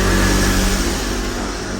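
Motorbikes pass along a street outside a home next to a house under construction, a loud close engine drone and revving that slowly fades as the bikes move off.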